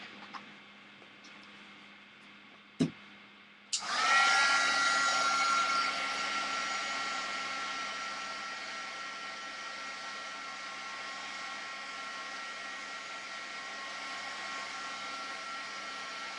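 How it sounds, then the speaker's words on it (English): A heat gun switches on with a click and blows hot air over the paint on a craft trinket box, settling into a steady loud whooshing whir that runs on alone to the end. "I'm going to hit this with the heat gun real quick"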